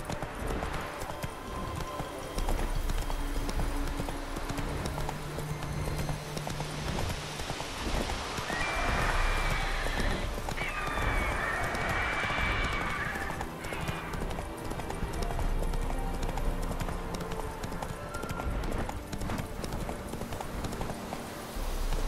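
Hooves of the horse Roach pound in a steady galloping clip-clop through The Witcher 3, a continuous rhythmic beat with scattered game ambience and occasional whinnies layered over it.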